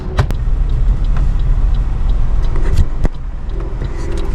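Steady engine and road rumble from inside a moving car on a road, loud and continuous, with a few clicks and knocks and brief faint talk.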